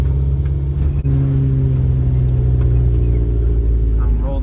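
Engine of a RAM 50 pickup truck on a night test drive after repair, a steady loud low rumble with slight revving throughout, with a voice speaking over it.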